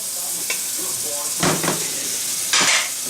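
Chickpea pancakes frying in butter in a pan give off a loud, steady sizzle and hiss, with a couple of bursts of stronger crackling and a scrape or clatter of a utensil.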